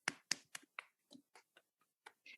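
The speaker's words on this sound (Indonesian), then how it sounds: "Terus kemudian saya tepuk di daerah dada sini." A hand pats the chest during a massage-style therapy, about ten soft, separate slaps spaced fairly evenly, louder at first and then fading to light taps, close up with no talking.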